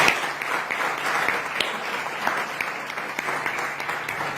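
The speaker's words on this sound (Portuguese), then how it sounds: "Quem está aí ainda pode aplaudir a Deus." A church congregation applauds together in a sustained, dense patter of clapping that stays steady and fairly loud for several seconds, with a faint low hum behind it.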